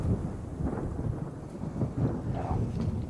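A low, rolling rumble of thunder from an approaching storm in a TV drama, a steady deep roar with faint rain and wind texture, no voices.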